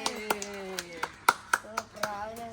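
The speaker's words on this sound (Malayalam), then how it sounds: "ഓക്കെ, കൈയടിച്ചേ." A few sharp hand claps at an irregular pace, loud and close, over voices talking on a pigeon and bird farm.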